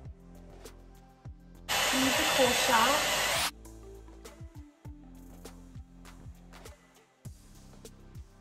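A handheld hair dryer blasts on curly hair in a loud, steady whoosh for under two seconds. Quieter clicks and handling noises come before and after it.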